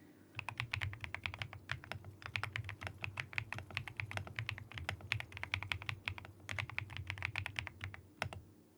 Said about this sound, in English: Can you hear the keyboard sound okay today?